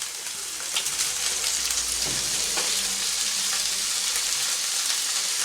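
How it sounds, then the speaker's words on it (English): Onions and bacon frying together in a pan, a dense, even close-up sizzle with a faint low hum and occasional light knocks. "so in goes the onions, and I'm going to put the bacon in with it as well"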